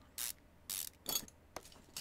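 Parts being unscrewed from a car's brake assembly in Car Mechanic Simulator 2015, four or five short mechanical ratcheting bursts spaced about half a second apart, crisp and close over near silence.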